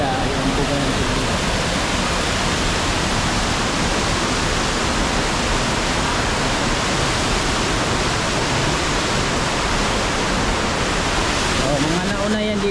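Rushing water at Bluerock lagoon in Montalban, Rizal, a loud, constant broadband roar like a waterfall or fast stream that fills the whole stretch, with faint voices near the end.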